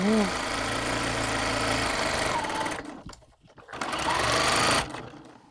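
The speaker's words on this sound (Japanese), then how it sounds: "こうして前立てを半分に中表に折って" A sewing machine runs steadily as a folded shirt front placket is stitched, pausing briefly midway before a second continuous burst of stitching.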